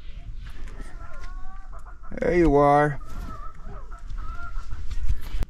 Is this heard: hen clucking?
yes